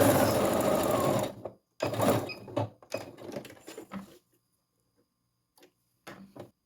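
A sewing machine stitches fabric for a baby diaper band: a steady run of close rapid stitching, then short bursts as it reverses for a backstitch at the end, followed by quiet pauses.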